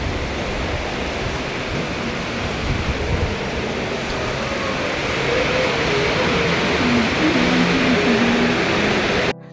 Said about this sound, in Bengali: দেখো বাইরে কত জোরে বৃষ্টি হচ্ছে।